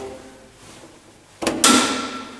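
A VESDA-E smoke detector's access door being closed, giving two quick clicks a moment apart and then a brighter latch snap with a short ringing tail, close and fairly loud against a quiet room.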